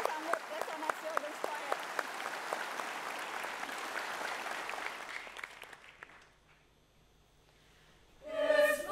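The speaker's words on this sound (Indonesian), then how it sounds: "Boleh ya kita kasih tepuk tangan sekali lagi ya?" Audience applause on an Indonesian talk show stage, dense clapping that fades out over several seconds into near silence, followed by a brief burst of music or cheering at the end.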